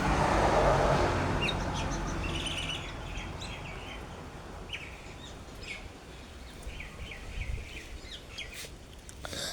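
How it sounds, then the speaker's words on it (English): Indian mynas and currawongs call in open Australian bird life, a dense mix of chirps and squawks with scuffling as birds fight, steady and fairly near against a low rumble of wind. "We have a Kurong there, an Indian miner there, with some birds fighting."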